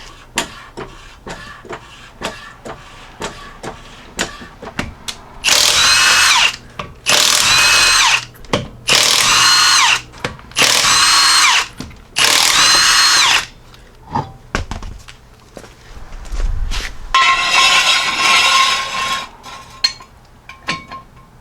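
A power tool zips off the wheel nuts of a 2016-2021 Jeep Grand Cherokee. Five loud, close, rattling bursts come in quick succession, then a longer whirring run after some clanking.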